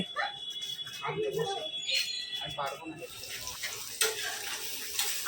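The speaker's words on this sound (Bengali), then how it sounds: "আজকে কি রান্না হচ্ছে দেখো এটা হচ্ছে উচ্ছে ভাজা" Bitter gourd (uchhe) fries in a pan with a soft, steady sizzle and occasional stirring clinks. Someone talks over it throughout.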